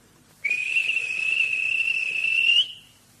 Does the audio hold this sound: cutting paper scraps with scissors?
no